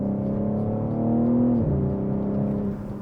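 BMW G80 M3 engine and exhaust running in sport mode, a steady low droning tone that swells, dips in pitch, then settles, heard close and alone.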